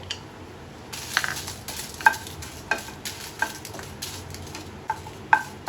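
Dried red chillies and tamarind fry in a pan of oil for peanut chutney, a steady sizzle carrying sharp scraping stir strokes and clinks at irregular intervals, close by, with no voices.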